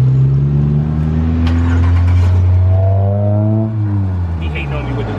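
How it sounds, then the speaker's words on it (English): A Dodge Durango R/T engine on its stock exhaust revs up close by, a deep steady drone that climbs in pitch and drops back down, with a loud, continuous rumble throughout. "I'm about to start this bad boy up and I'm gonna rev it up so y'all can hear what that motor sound like."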